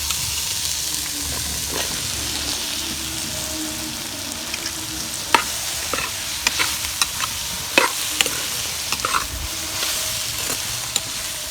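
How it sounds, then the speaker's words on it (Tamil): Chopped bottle gourd sautéing with softened tomato and salt in a pan for a dry fish curry, a steady close sizzle broken by scraping stirs and clinks of the spoon, with no talking. "இந்த சொரக்காவும் அதோட கொட்டி நல்லா வணக்கிக்கலாம்"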